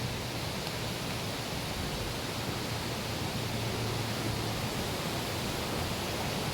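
A mountain stream near Pinlac Falls in Infanta, Quezon rushes in a steady, dense, close-up wash of water that fills the whole clip, with no voices.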